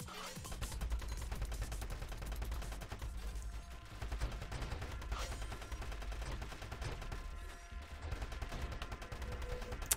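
Weapons fire nonstop in the Nova Drift space shooter game, a dense, continuous barrage of rapid blasts and explosions that stays loud throughout.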